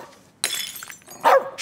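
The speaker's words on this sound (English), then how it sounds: "He's a dog. He doesn't have an off switch." A nervous dog barks in the video game As Dusk Falls, a few loud, sharp barks close by, mixed with a crashing, glassy impact.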